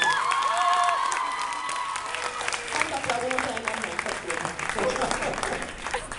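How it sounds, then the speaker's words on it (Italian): Crowd at an enthusiasts' gathering breaking into applause, dense sustained clapping mixed with scattered cheers and shouts, a voice briefly audible near the start, lasting several seconds. "Applauso."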